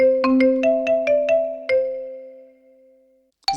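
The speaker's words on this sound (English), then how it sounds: "Marimba," A MIDI marimba plays a quick run of about seven struck notes, each mallet hit sharp and ringing, then the last tones fade away before a new note begins.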